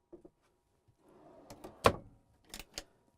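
Cabinet drawers in an Airstream Interstate touring coach van slide and shut, with quiet rolling scrapes followed by several sharp wooden knocks and clicks as a J-lock catches, close and fairly faint.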